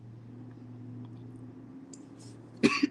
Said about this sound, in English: this cough is finding its way back into my soul.